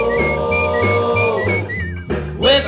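A short run of melodic whistled notes rides over a rock and roll band with a steady beat, the whistle thin and high, up front in the mix.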